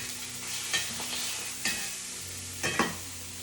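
Steaks sizzle in a pan just after being flipped: a steady, fairly quiet hiss of searing meat, broken by a few soft clicks and scrapes of the turner against the pan.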